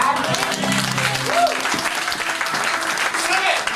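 Church congregation applauding during a French-language sermon, a steady wash of clapping throughout with voices and a bit of tone mixed in underneath.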